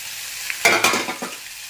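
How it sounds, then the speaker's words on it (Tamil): Onion, tamarind and garlic sauté in a pan, with a steady hiss of frying broken by several scraping stirs of a spoon, close and loud with no talking. "போட்டுட்டு இது நல்லா வதக்கணும்"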